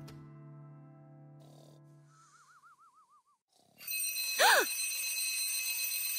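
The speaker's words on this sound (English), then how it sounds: "Who turned on the alarms?" Quiet ringing tones fade, a warbling trill follows, then loud shrill alarm clock bells burst in and keep ringing steadily, with a sharp swooping chirp on top, in a children's animation.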